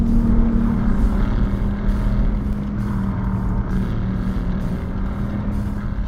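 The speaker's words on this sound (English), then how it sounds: "The exhaust is a lot more tame in the standard sport mode." A 2022 Aston Martin Vantage F1 Edition exhaust in standard sport mode, a steady, fairly tame low engine drone with a constant hum, loud and continuous with no talk over it.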